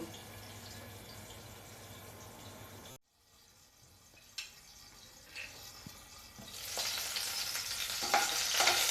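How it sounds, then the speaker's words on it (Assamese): Potatoes fry in a covered pan with a soft, continuous sizzle that cuts out abruptly, then returns quieter with a few light clicks before swelling into a louder, brighter hiss near the end. "আলুখিনি ফ্ৰাই হৈ গৈছে"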